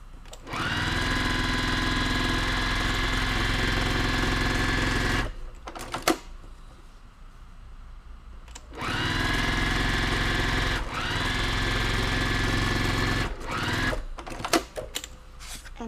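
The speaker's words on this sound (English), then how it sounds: "So here, I'm gonna sew this." A sewing machine stitches a quilt block on foundation paper, running in two long steady bursts of fast mechanical whirring separated by a pause with handling clicks, then brief rattling stops near the end.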